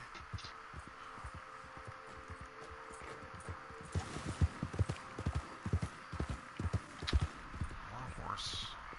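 Horse hooves clip-clopping in Red Dead Online, a rapid, uneven run of dull thuds that grows louder midway through the stretch, with steady game ambience and a voice talking over it.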